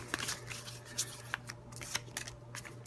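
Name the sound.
shuffling movement cards for the Onitama board game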